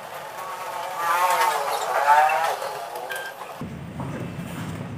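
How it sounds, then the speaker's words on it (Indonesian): An ordinary home printer feeds and prints an A4 sticker sheet, a steady mechanical whir and rolling drone that swells midway, then drops to a lower hum as the carriage stops, close and alone. "Ini proses printnya, kertas A4, kertas stiker"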